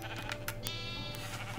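A sheep bleats in the video game Minecraft, one drawn-out wavering cry over a steady low background hum, close and clear with no talking.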